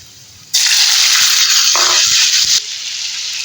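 Chopped onion, capsicum and tomato hit about a cup of hot oil with a sudden loud, hissing sizzle that holds steady for two seconds, then drops to a quieter simmer.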